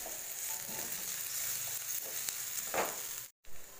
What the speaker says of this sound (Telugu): అల్లం వెల్లుల్లి పేస్ట్ పచ్చివాసన పోయేంత వరకు వేపుకోవాలి